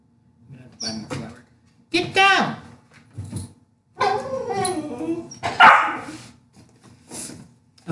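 A dog barks close by in a kitchen during a pretzel baking session, giving a few short sharp barks and yips in separate bursts, mixed with people's voices.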